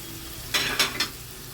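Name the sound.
onions being stirred and fried on medium flame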